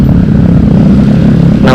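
Motorcycle with an aftermarket replacement exhaust, revving at a steady idle up close: a loud, deep, continuous engine drone with a low throbbing rumble, heard alone without talk.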